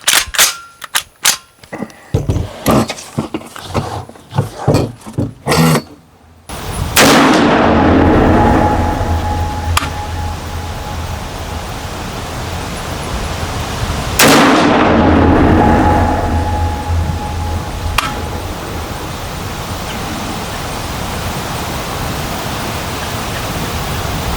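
An FAL rifle fires at an outdoor shooting range: a rapid string of sharp reports and clatter at first, then separate booming shots spaced several seconds apart, each trailing off into open-air echo.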